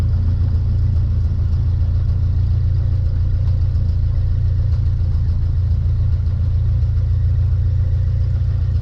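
A Cessna Skyhawk single-piston engine pulled back to idle during braking on the runway after landing, a loud, steady low drone with a constant rumble throughout and no talk.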